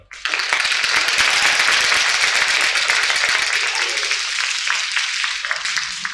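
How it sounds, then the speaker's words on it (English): Audience at an Eastern Kentucky regional civics bee breaks into sustained clapping, dense and even before slowly thinning toward the close, with voices faintly beneath. "How about one more round of applause for everybody?"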